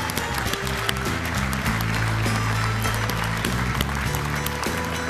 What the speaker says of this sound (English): please join me in a round of applause for all of these members